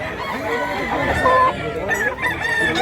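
Roosters crow and chickens cluck close by at a gamefowl seller's yard in Mantalungon, Barili, Cebu, with overlapping calls through the short stretch.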